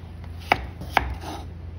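A knife chops peeled food into small pieces, two crisp, distinct cuts about half a second apart against a quiet background.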